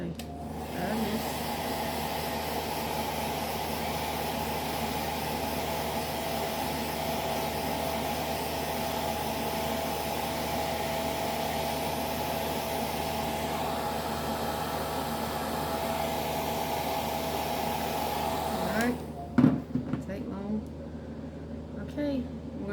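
A hair dryer blows steadily at close range over acrylic paint on a rose painting, a loud continuous broadband whoosh lasting about nineteen seconds before it switches off, followed by brief handling clatter.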